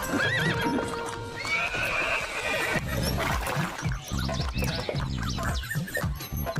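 A horse pulling a cart clip-clops along with steady hoofbeats and whinnies loudly several times, close by, amid a busy jingling, rattling backdrop.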